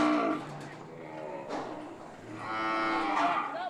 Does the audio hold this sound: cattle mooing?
yes